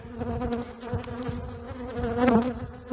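A dense, steady buzz of honey bees at a beehive during a honey super check, close and continuous with brief louder swells, no talking.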